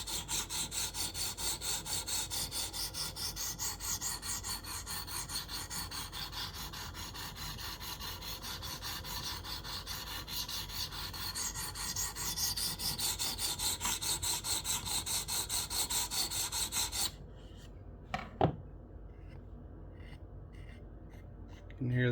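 A knife blade is stroked steadily across a 300-grit stone on a KME guided sharpener, a continuous close scraping rub that keeps going for about seventeen seconds before stopping, followed by a few faint clicks and handling noises.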